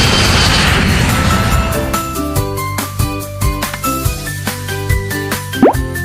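A cartoon aeroplane flies past with a broad whooshing roar that fades away over the first second or two, then gives way to bouncy music with light plopping hits.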